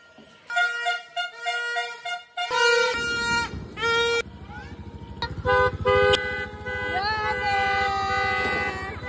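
Car and motorcycle horns honk repeatedly on New Year's Eve, a loud overlapping chorus of sustained toots and short bursts that continue throughout, with some blasts close and others farther off.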